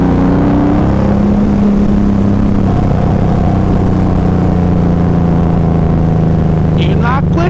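A motorcycle engine accelerates steadily during a ride, its drone rising and holding under heavy wind rush, with a brief splash-like burst near the end.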